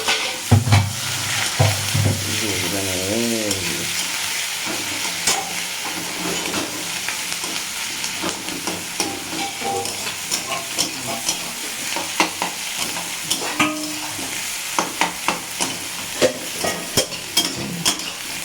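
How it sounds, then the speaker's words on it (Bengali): Chopped garlic, onion and chilli fry loudly in hot oil while a spatula scrapes and stirs them, a dense close sizzle with repeated rhythmic metallic strokes growing more distinct toward the end. "চলুন পেঁয়াজটা ততক্ষণে ভাজা ভাজা হোক।"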